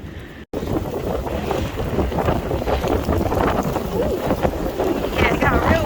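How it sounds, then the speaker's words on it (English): Strong, gusting wind roars steadily across the microphone on a mountain hiking trail, a loud broadband rush that swells and buffets throughout after a brief dropout at the start. "Yep. It got real windy, but that's alright."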